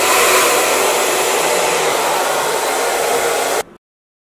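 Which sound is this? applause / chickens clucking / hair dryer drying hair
hair dryer drying hair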